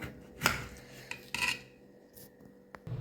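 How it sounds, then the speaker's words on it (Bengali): A knife cuts potatoes into halves on a board, sending a few sharp scraping and chopping sounds at irregular intervals, close and moderately loud with no talking. "আলুগুলোকে এরকমভাবে দু টুকরো করবো"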